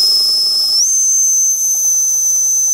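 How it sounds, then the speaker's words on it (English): A small steam engine's whistle blows in one loud, sustained, piercing shriek that rises slightly in pitch early on and then holds steady to the end, close by, with a hiss beneath it. "we have a cool little whistle to go along with it"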